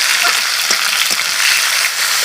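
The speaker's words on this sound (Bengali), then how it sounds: "টমেটো দেওয়ার পর সব কিছু উপকরণ আমি আবারও নাড়াচাড়া করে নেব।" Beans and mung dal with tomato are stirred in a hot pan, giving a loud, steady sizzle with faint scraping knocks of the spoon running through it.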